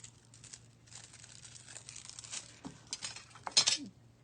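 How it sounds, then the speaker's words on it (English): MusselBound adhesive paper foils are handled for a glass resin geode piece, producing light, intermittent crinkling and rustling that grows busier and louder toward the end. "I'm going to adhere the foils"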